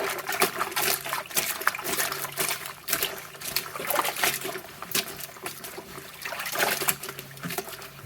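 Wet wool being squeezed and agitated by hand during felting, producing close squelching, dribbling water and irregular splashy bursts that rise and fall without speech.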